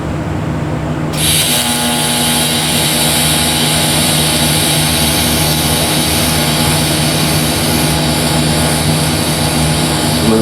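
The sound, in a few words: welding a bead onto the top of a nut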